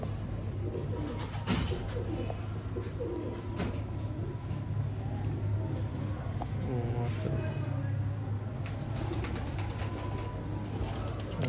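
Sialkoti pigeons coo repeatedly in soft, low rolling calls, with occasional wing flutters and sharp clicks against a steady background hum.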